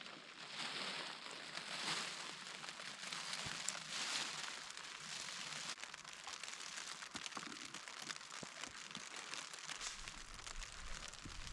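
Rain patters steadily and densely at a mountain campsite, a constant close crackling wash with scattered louder drops, and no voices over it.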